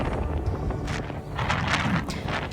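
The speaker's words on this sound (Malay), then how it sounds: "rasa macam nak tercampak kena angin." Strong wind gusting in the Hunza valley in Pakistan, buffeting the microphone with a loud, continuous roar that swells and eases, close and rough with no talk.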